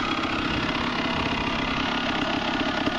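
A 1999 Honda CR250 motocross bike with a rebuilt race engine runs steadily at a fast two-stroke idle, a dense buzzing drone close by and fairly quiet, with no talk.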